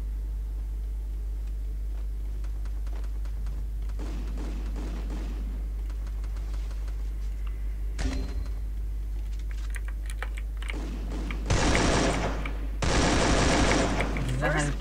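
Gunfire in the mobile shooter game Free Fire, heard as loud bursts of rapid shots late in the stretch, over constant keyboard typing and a low steady hum.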